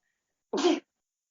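A single sharp sneeze bursts out close by, brief and loud, surrounded by silence.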